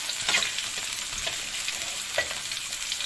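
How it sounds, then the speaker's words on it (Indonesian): Sliced onion sautéing in a pan for a stir-fried corn and water spinach dish, giving a steady close sizzle and crackle with occasional stirring scrapes throughout, no voices. "ini bawang bombay ditumis sampai layu"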